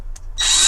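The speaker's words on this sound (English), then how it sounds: "I'm going to drill this one out now" A brief click, then a small high-pitched drill spins up and whines continuously, close and loud, drilling out a Corgi die-cast model car.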